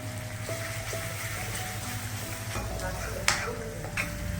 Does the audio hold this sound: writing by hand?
no